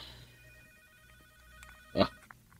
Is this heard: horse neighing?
no